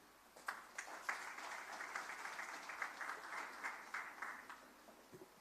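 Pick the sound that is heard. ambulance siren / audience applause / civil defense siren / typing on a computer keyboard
audience applause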